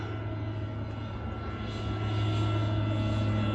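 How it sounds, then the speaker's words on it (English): A small propeller plane drones steadily near an airport, its engine hum holding constant and then swelling louder as it takes off. "See if we can get a plane taken off. Oh, there's a little one."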